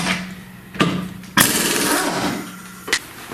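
Hub nut being broken loose on a Chrysler Town & Country van front hub with the wheel removed, heard as a few sharp, loud impact bursts against a steady mechanical hum.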